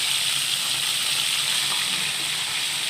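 Constant hissing sizzle of koi fish frying in oil, close and steady throughout, with no voices.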